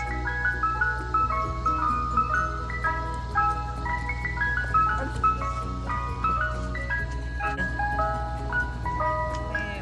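A neighborhood ice cream truck plays its tinkling looped melody continuously under a steady engine hum, loud and close with no talking.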